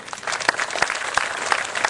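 Audience applause for M. Luno Jourdain at a ceremony, a steady wash of clapping across the whole stretch with a few sharper individual claps standing out.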